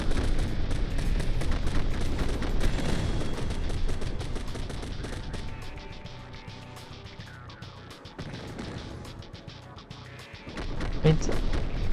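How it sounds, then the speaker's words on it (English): Rapid bursts of synthetic plasma cannon fire in a video game crackle over a dense, rumbling battle soundscape, loud at first, easing in the middle, then swelling again. "I love the look of rapid firing plasma cannons."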